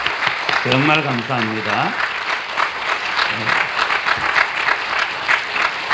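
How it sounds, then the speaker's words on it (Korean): A standing audience gives warm applause at a Christian mission forum in a hotel lecture hall. Someone speaks briefly over the opening clapping, then the dense, even applause carries on alone. "우리가 뜨거운 박수로 감사를 한번 표하면 좋겠습니다."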